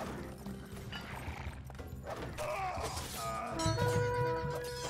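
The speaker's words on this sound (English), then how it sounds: "Plenty of horses coming in." Horses neighing amid cavalry and battle effects in the strategy game Age of Empires: Definitive Edition, faint whinnies layered over a busy, constant wash of game sound.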